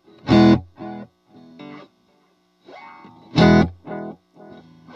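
UAfx delay pedal with its high cut feedback setting, fed two bursts of electric guitar notes whose repeats trail off between them, giving a dark echoing tail under each phrase; no talking.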